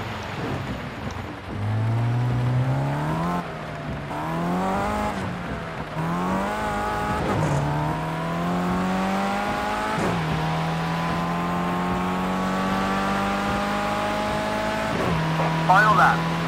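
A Mercedes A45 race car lapping Spa-Francorchamps in Project Cars 2, its engine climbing steadily through the gears with repeated upshifts and small drops in pitch, held at a loud, close, continuous drone, with a voice talking now and then.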